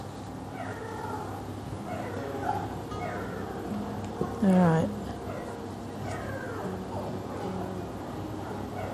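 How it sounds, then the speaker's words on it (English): Several small puppies whimper and squeak in high, wavering whines, with one louder cry midway; a voice speaks briefly over the background. "Listen to those puppies. I think they're having a little conversation."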